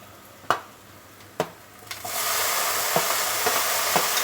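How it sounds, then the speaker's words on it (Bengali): Chopped tomato tipped into a pan of frying onions for a spicy prawn curry, bursting into a loud, steady sizzle after a few sharp knocks of a spoon against the pan, with stirring clicks continuing over the hiss. "এখন আমি এর মধ্যে টমেটো কুচানোটা দিয়ে দেব"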